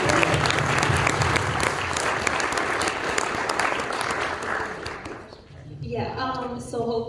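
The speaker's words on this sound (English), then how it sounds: "can we get a round of applause" Dense applause from a panel audience, steady and close, thinning out near the end as a voice begins talking over the fading claps.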